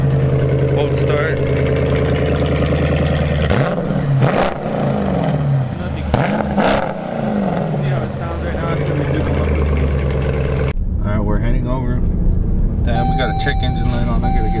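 A Dodge Durango R/T with a 5.7 Hemi V8 idles after a cold start, a loud steady rumble with a couple of brief blips of revving midway, before the sound shifts and thins near the end.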